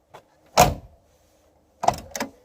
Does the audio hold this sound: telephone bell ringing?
no